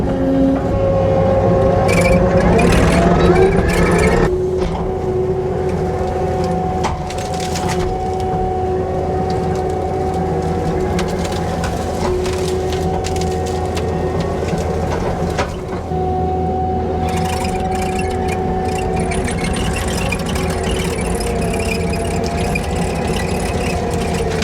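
Skid loader engine running steadily at a low, constant drone with harmonic hum, loud and close, while the machine drives out on a wooded logging site to fetch felled hackberry trees.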